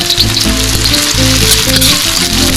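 Chopped onion hits hot cooking oil in a frying pan and sizzles loudly and continuously, with light crackling and some stirring clatter close by.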